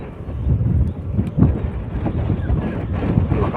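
Strong, gusty wind blowing over open water beside a boat, a steady rumbling roar buffeting the microphone with swelling gusts throughout and no clear talk.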